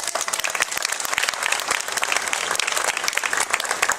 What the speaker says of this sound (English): So let's give a huge, huge round of applause for my friend and wonderful Fire Chief Mark Brayshore.